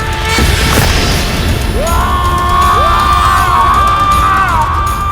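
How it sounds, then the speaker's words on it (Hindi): A loud, anguished scream rises over dense, roaring noise like a crowd, with long wailing tones that swell and sustain, harsh and overwhelming throughout. "ये किसकी पुकार है? पुकार नहीं, चीख है"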